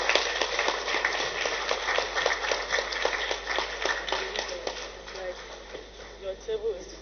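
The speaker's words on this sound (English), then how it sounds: "a round of applause for her" An audience at a government ceremony claps, a dense patter of many hands that stays loud for several seconds, then thins into scattered claps as it fades, with voices murmuring underneath.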